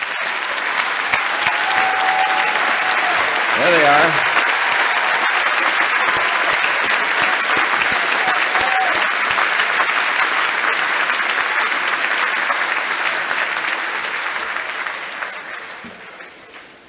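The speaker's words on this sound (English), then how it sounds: "you just want to hear the applause" Big audience applause at a college commencement ceremony for graduates' parents, a loud, dense, sustained roar of clapping that holds steady for many seconds before tapering off, with a brief spoken remark near the start.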